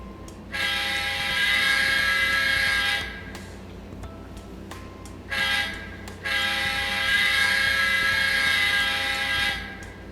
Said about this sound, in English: Now we will blow the horn, starting with the left locomotive.